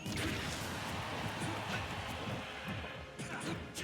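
A cannon strikes a fighter in Super Smash Bros. Ultimate, landing as a loud, dense crash that rolls on for several seconds amid busy game effects.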